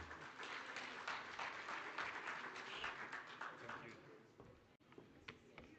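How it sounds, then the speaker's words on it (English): Conference audience at an oil and gas event applauds a speaker, a thick continuous wash of clapping that stays strong for several seconds before thinning out, with faint voices mixed in. "Let's give him a round of applause."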